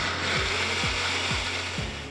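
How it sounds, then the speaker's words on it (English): A common household blender processes picked berries, a loud mechanical whir with rhythmic thumping pulses recurring about every half second, no voices. "they're going to go through a common household blender."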